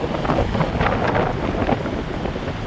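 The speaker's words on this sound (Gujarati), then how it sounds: "કારણ જો ફૂલ હવા નીકળી છે ને ભેગી વરસાદ પણ છે" Strong wind with rain roars steadily into the microphone on a fishing trip, a constant low rumble with gusty buffeting throughout and no voices.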